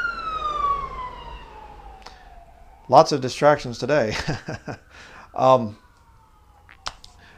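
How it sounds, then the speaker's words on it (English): An ambulance siren passes outside, sliding downward and fading in the first couple of seconds, then someone talks briefly with a few clicks in the background. "There goes the ambulance."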